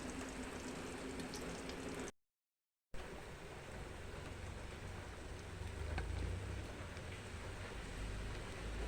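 Eggplant simmering in a pot of Filipino mixed-vegetable stew gives off a steady, faint bubbling and sizzling hiss that breaks off briefly in a short silence and then continues evenly, with no talk.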